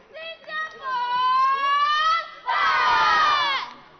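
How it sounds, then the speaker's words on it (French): A women's sports team at a qualification event lets out loud shouted team cries and cheers: a sustained chorus of high voices, a short pause, then a second louder yell, close and alone. "Et les cris d'équipe qui ont été réalisés."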